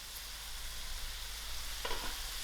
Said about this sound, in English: my green beans has come to a nice fry